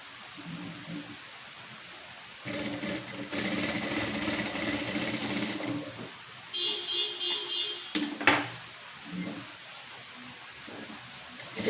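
Sewing machine stitching double-run tucks on the back of a blouse, running in short bursts of mechanical whirring with pauses between, close and steady over a low background hiss.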